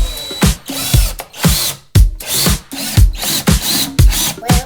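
A power drill drives screws through a floating shelf into a kitchen wall in short repeated bursts, each a loud close whir ending in a ratcheting grind, separated by brief pauses, with no talking.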